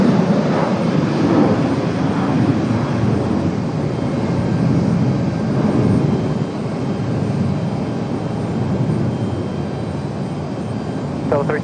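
A Delta Air Lines jet airliner departs Raleigh-Durham International Airport, its loud engine roar swelling and then holding steady, with voices talking over the noise.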